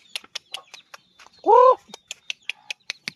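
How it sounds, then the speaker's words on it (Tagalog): Chickens and chicks near a coop under construction, with repeated short chirps and peeps from chicks and one louder drawn-out cluck or call from a hen in the middle. "ito pa, mga sisiw"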